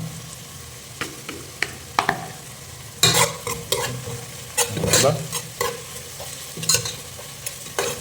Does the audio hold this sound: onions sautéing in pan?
yes